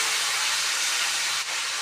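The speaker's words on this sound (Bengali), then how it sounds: "মাছটা দিয়ে দেবো আমি, বেশি ফ্রাই করব না, হালকা একটু ভেজে নেব।" Fish fries lightly in a hot pan, giving off a steady, dense sizzling hiss that stays close and even for a brief moment.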